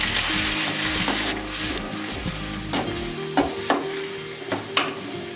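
Dried red chillies and onions frying in hot oil in a pan for Chinthamani chicken, a steady loud sizzle broken by repeated scraping stirs of a spoon.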